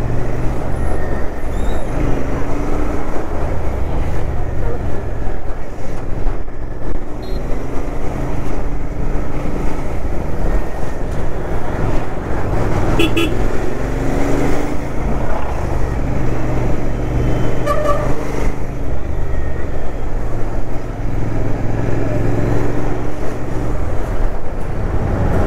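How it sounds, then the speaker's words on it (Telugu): Heavy traffic on a ghat road near Naneghat, heard from a motorcycle during the ride, with loud, constant engine roar and wind rumble. Passing vehicles and occasional brake hisses rise above it, and no one talks. "ట్రాఫిక్ గట్టిగా ఉంది, ఘాట్ రోడ్ ఎంటర్ అయినట్టున్నాం."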